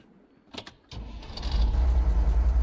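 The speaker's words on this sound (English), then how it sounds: "Well, start engine," A truck's engine is cranked with a few short clicks and whirs, then catches and settles into a loud, deep, steady idle rumble close by, with no talking.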